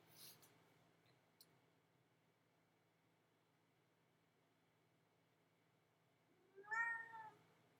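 Cat on a table indoors gives a single short meow near the end after a long stretch of near silence with faint background hiss, quiet and close.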